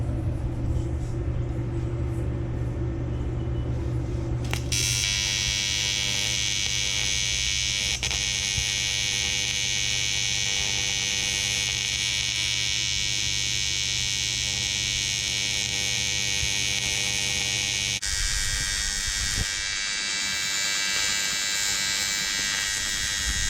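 Tack welding on a broken Corvette subframe gives a loud, steady electric buzz and crackle. It holds for about thirteen seconds, close by, then cuts off.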